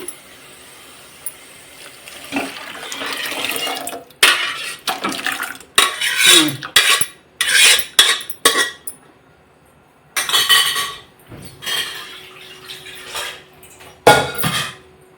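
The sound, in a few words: mixing cooked lentils into fried masala in a pot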